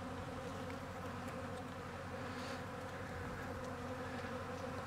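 Honeybees stream into hives on a calm day, heavy with pollen, giving a continuous dense buzzing drone, steady and moderately quiet, with a few individual bees passing closer.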